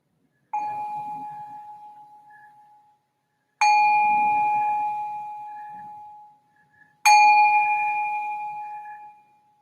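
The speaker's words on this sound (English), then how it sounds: "let me just ring this bell to signal the start of the meditation" Meditation bell struck three times at slow, even intervals, each clear ringing tone sustaining and fading away before the next strike, alone in silence.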